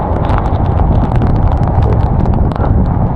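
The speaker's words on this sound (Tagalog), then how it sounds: "Ang hangin na sobrang lakas." Very strong typhoon wind roars steadily and loudly close to the microphone, a dense continuous rush with gusty buffeting throughout.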